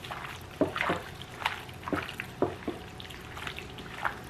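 Shrimp being mixed by hand with a black pepper marinade for spicy shrimp in coconut sauce, soft wet squelching and slapping in irregular pulses, close and fairly quiet.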